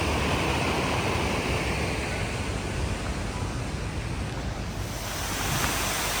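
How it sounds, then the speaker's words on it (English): Waterfalls along the hiking trail to Virginia Falls in Glacier National Park pour with a constant, loud, broad rushing roar, close and unbroken throughout. "these are some of the waterfalls along the way."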